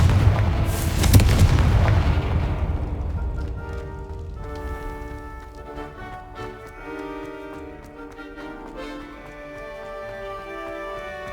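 A blasting curse in the Hogwarts Legacy video game explodes with a loud, deep boom, then a rumbling decay that fades into a ringing, musical shimmer over several seconds.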